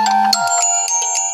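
A mobile phone ringtone plays loud and close, a bright electronic melody of quick repeated tones with no voices over it.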